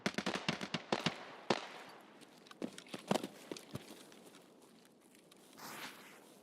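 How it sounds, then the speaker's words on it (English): Scattered sharp cracks of gunfire in a video game shooter, irregular single shots and short bursts at varying distances, some close and loud, others fainter, with no talk. "It seemed like somebody was shooting at me again."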